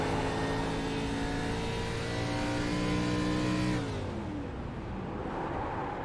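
An ARCA Series race car engine holds a loud steady drone, then winds down as it shuts off on pit road, the pitch sagging and the roar thinning to a lower rumble.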